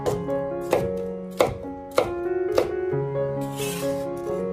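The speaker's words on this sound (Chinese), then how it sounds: "然后我们用斜刀把它切成零星块就可以了" A knife chops red pepper into pieces on a cutting board, five or six sharp, evenly spaced strikes close up, with soft background music throughout.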